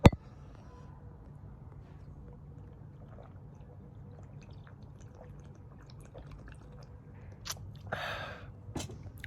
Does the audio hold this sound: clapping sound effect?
no